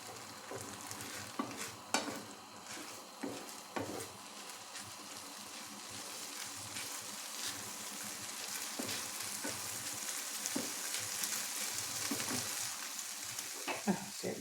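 Food fries over high heat in a pan, hissing continuously at a low level while a utensil scrapes and clicks in irregular stirring strokes.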